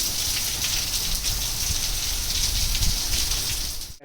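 Heavy rain falls in Gulmarg, Kashmir. A dense, continuous hiss of pouring rain fills the clip close by, with scattered heavier drops, before it ends abruptly.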